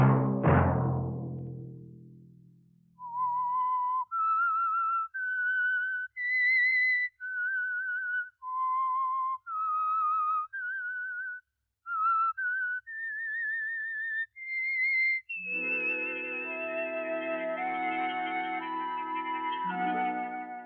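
Whistled theme signal for The Whistler radio program, a solo eerie melody of sustained, slightly wavering notes stepping up and down, ending as an orchestral chord swells in, preceded by a fading musical flourish.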